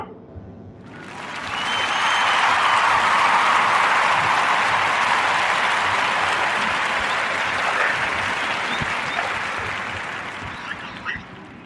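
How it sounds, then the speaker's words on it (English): Warm round of applause from an audience for a podcast guest, a dense sustained wash of clapping that swells quickly, holds steady and tapers off slightly toward the end, with no talking over it. "Join me in a warm narrative round of applause"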